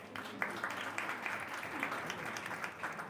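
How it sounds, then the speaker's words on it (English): A crowd applauds steadily at a community meeting, with many hands clapping in a continuous, moderately distant wash of sound. "let's give her a round of applause"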